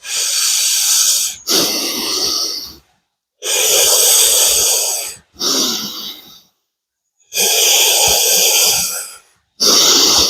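Heavy, loud breathing during a punching speed and reaction exercise, long rasping inhales and exhales in a steady cycle of about six breaths with brief silent gaps between them, very close.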